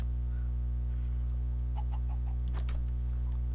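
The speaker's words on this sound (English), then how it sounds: "Let my house be filled with chickens." Minecraft chickens cluck in a few short, scattered calls over a steady electronic hum, fairly faint and with no talking.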